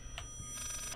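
A telephone rings in the horror video game Layers of Fear, a short ringing burst with a fainter ring earlier, heard alone at low level over a dark ambient hum.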